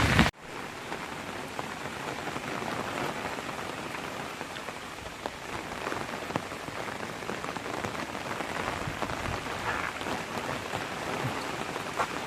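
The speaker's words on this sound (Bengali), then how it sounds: "বৃষ্টি আর ঝোড়ো হাওয়াতে মোটামুটি বেরিয়ে পড়েছে" Rain driven by stormy wind during cyclone Remal, a continuous dense patter of drops on surfaces with a low rushing undertone, steady and moderately loud after a brief bump at the start, no voices.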